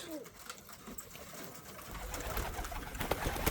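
Pigeons released outdoors flutter and take flight, with soft cooing and wing flaps rising toward the end under a voice speaking nearby.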